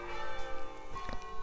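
Church bells peal in a lively, somewhat frantic pattern, their overlapping tones ringing steadily through the whole short stretch with no one talking.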